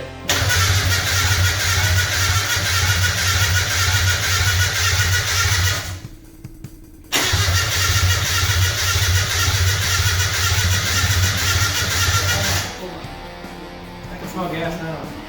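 An engine cranks and fires for the first time, then runs steadily at a loud, even idle, cuts out briefly, restarts and keeps running before settling lower near the end, with people talking over it.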